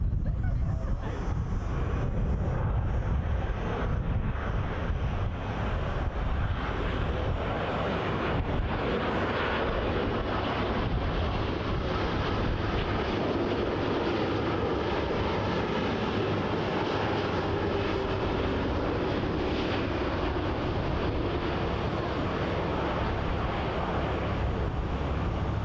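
A Boeing 787 Dreamliner airliner arriving at Toronto Pearson on runway 24L, its engines a steady broadband roar heard alone and sustained across the whole pass, fairly distant and soft with wind buffeting.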